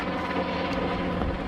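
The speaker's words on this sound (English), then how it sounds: "They got the helicopter coming in." A helicopter drones steadily overhead as it comes in, its rotor and engine noise a continuous faint hum with a light beating texture and no talk.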